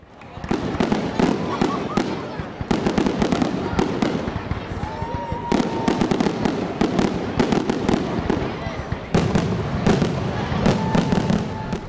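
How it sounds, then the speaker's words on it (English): A fireworks display after a baseball game pops and cracks loudly in a rapid irregular series, with sharp bangs over a steady crowd and ambient rumble and a few whistling rises between bursts. "the night ended with fans enjoying a spectacular fireworks display"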